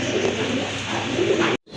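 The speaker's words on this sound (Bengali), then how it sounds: "আর এই যে পেছনে এটা কিন্তু নর কবুতর।" Pigeons coo steadily at close range, a soft rolling murmur with no talk, from a pair of pigeons, a hen and a cock, offered for sale; it cuts off abruptly near the end before faint sound resumes.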